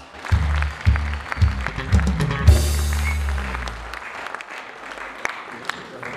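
Loud audience applause at a concert greeting the headline performer as he takes the stage. It starts mid-clapping, peaks sharply, then thins out into scattered claps and room noise.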